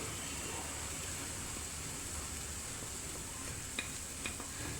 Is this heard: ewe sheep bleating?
no